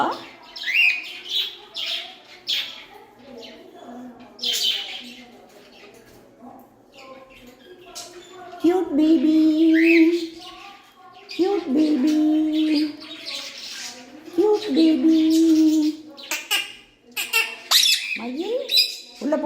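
A pet parrot at home chirps, squeaks and makes call-like vocalizations in repeated bursts, close and fairly loud, with people talking intermittently nearby.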